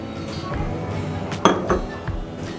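Eggs and oil are whisked into batter in a bowl for semolina biscuits, giving a few light clinks and taps of utensil on bowl, fairly close, with a soft background hum.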